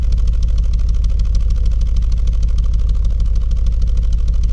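A 2008 Audi RS4 engine idles close by with a deep, steady, even burble and a loud, continuous low rumble, no voices.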